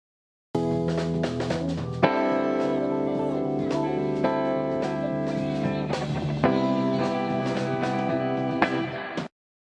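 Compressed electric rhythm guitar strums full chords with soft, slow-swelling attacks and long sustains, a few strong strokes ringing out over roughly nine seconds, alone and fairly quiet overall.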